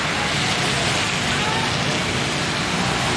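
Dense, steady hiss of heavy rainfall pouring down without pause along a busy road with buses, loud and close, with no clear voices.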